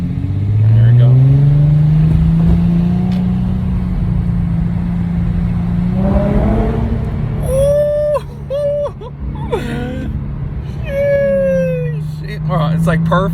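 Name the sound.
car with new aftermarket exhaust accelerating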